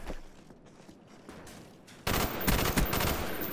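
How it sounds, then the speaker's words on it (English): Machine gun fire in a Call of Duty match: quieter scattered game noise for two seconds, then a loud, dense burst of rapid automatic shots with a couple of sharper peaks, sustained to the end. "there's a guy with a motherfucking machine gun"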